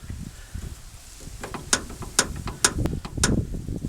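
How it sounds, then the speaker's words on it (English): A hood latch clip on a 2004 Toyota Tundra snaps onto its rod with a series of sharp small plastic-and-metal clicks, several spaced ticks over faint handling noise. "rotate that until it clips onto the rod"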